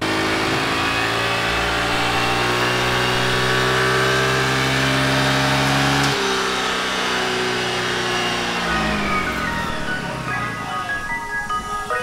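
A loud Honda Navi motorbike engine on a dyno drones steadily with layered harmonic tones, then shifts pitch partway through as revs change, continuing to roar to the end.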